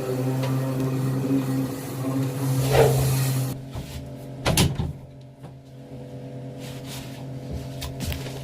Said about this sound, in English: not always easy to get these doors open, so a little bit of finesse